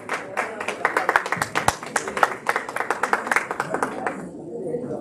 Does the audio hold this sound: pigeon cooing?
no